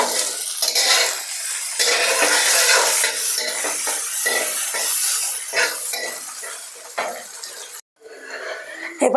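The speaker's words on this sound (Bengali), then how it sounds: "এখন ভেজে নিচ্ছি গাজর। ভেজে নিচ্ছি এবারে বিনস।" Carrots and beans frying in a pan for a large home-cooked order, with a loud, continuous sizzle and repeated scraping and clanking of a spatula as the vegetables are stirred, briefly dropping away near the end.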